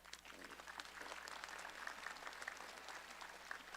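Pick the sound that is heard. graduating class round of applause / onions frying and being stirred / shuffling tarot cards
graduating class round of applause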